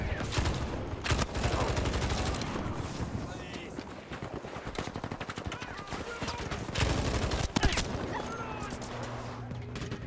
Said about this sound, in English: I should have won that gunfight.